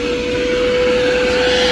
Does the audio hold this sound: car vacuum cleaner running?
yes